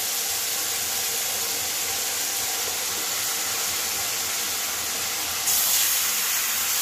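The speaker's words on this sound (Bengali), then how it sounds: "এবার আমি কচু শাকটা দিয়ে দেবো।" Taro leaves tipped into a hot cooking pan for a vegetarian taro-leaf ghonto with kabuli chickpeas and coconut, giving a loud, steady sizzling hiss that swells slightly toward the end, with no talking.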